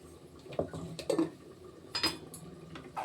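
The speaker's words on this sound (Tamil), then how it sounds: "தண்ணியை ஊற்றி நல்லா அப்படி கழுவி ஊற்றிக்கிறோம்" Water sloshes and splashes in a bowl as grated cassava is rinsed, with a few clinks of a utensil or pot edge in short, irregular bursts.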